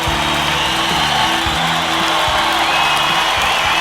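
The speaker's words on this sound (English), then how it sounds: "The crowd goes wild." Crowd cheering sound effect: a dense, loud, continuous roar of cheers and whoops from a large crowd that stays steady throughout, with no voice speaking over it.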